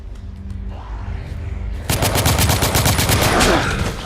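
Rapid machine-gun fire from The Order: 1886, a steady rattling burst that starts suddenly about halfway through and stays loud and continuous over a quieter ambient bed.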